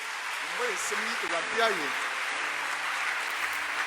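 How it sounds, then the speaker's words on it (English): A church congregation claps in praise to the Lord, a steady wash of fairly soft clapping that continues throughout while a voice sings or calls out over it. "Let's just give the Lord a clap of praise today."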